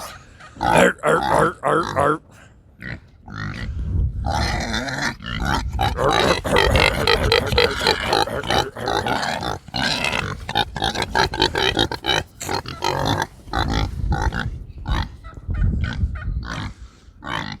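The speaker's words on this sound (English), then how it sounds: "I have these conversations with the pigs." Pigs grunt and snort continuously up close, a busy mix of low grunts and squeals with short pauses, no talking.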